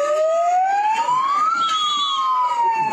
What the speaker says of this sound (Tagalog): Paminsan-minsan, ang ingay ng mga dumadaang ambulansya.